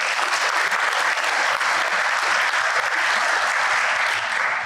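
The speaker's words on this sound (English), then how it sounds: "So round of applause." A graduating law enforcement class and their audience burst into dense, sustained applause, a thick, even wash of many hands clapping at once with no break.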